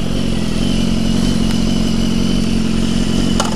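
A sport motorcycle engine on a group road ride running loud and close, with a dense, steady drone that stays unbroken through the whole stretch.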